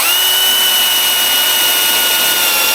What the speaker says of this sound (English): all you gotta do is screw it in